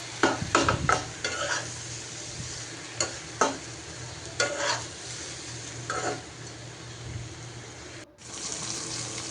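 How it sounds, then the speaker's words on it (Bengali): Boiled cabbage with onions frying in oil in a pan, stirred with a spatula: repeated close scrapes and clatters over constant sizzle, then a brief pause before the frying resumes. "এরপরে তো আমি সিদ্ধ করা বাঁধাকপি দিয়ে দিলাম, দিয়ে এখন ভাজা ভাজা করে নিব।"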